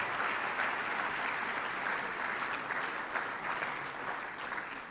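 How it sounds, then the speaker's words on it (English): An audience applauds at an annual awards ceremony, a continuous wash of clapping heard at moderate level that tapers slightly toward the end. "Let's give her another round of applause for her work."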